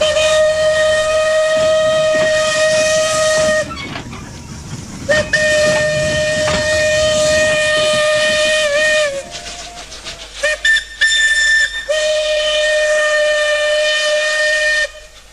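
A steam locomotive whistle at the Talisay Silay sugar mill in Negros blows in several long shrill blasts, with hissing steam and rumbling train noise between and beneath them, loud and nearby.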